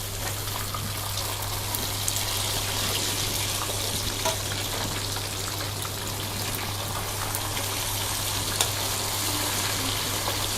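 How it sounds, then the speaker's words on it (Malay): Siakap fish fries in hot oil, a constant, dense sizzle with crackling pops scattered throughout, steady and close for the whole stretch over a low hum. "Okey, kita goreng dia lagi hingga dia garing betul."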